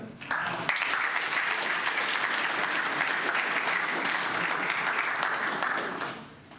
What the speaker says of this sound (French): Il faut l'applaudir quand même.